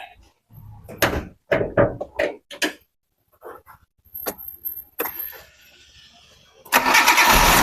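A 2002 Kia Visto car engine cranks and fires into a smooth idle after a few sharp clicks and door-like knocks, the engine noise rising loudly near the end.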